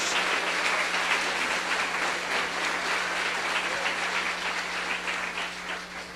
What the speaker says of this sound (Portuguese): Quantos podem dar um aplauso ao Senhor no nome de Jesus?